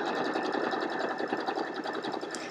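A sewing machine stitches a samosa quilt block, a close, loud, fast mechanical whirr with an even rapid needle rhythm, running continuously and alone.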